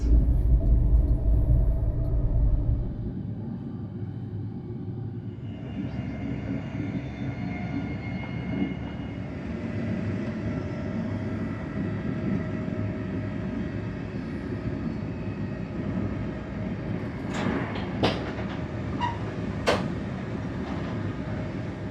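Steady low rumble of a moving LNER Azuma passenger train, first class, near Grangemouth heading to Edinburgh, continuous and even, with a few faint clicks and rattles near the end; no voices.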